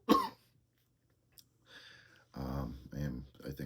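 A person coughs sharply once near the start, then after a pause speaks in bursts of talk with a faint steady hum underneath.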